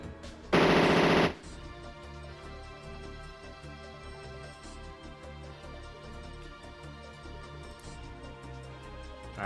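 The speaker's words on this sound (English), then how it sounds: "Gatling gun them." A Gatling gun fires in the MS-DOS mecha video game Power Dolls, one loud buzzing burst under a second long, then game music and effects continue underneath.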